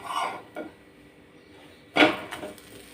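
A roti being flipped over in a hot pan during home cooking: a soft thump with a brief scrape around the middle, framed by lighter clinks and rustles from the pan, no one talking.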